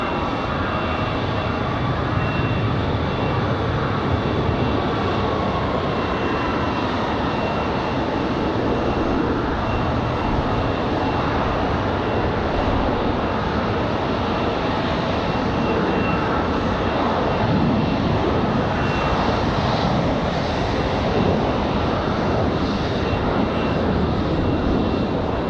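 A fixed-wing airplane taking off from runway 5 left at Raleigh-Durham International, a loud sustained engine roar that holds steady throughout with no voices over it.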